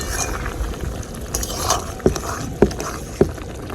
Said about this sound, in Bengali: চিনিটা দেওয়ার পর আর একবার ভালো করে নাড়া দিয়ে নিব